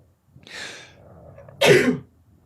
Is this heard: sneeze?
yes